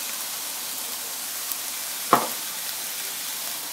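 Frozen chopped onion and spinach sizzle in a hot pan as a steady, moderately loud hiss, broken once by a short clunk of food or a utensil against the pan.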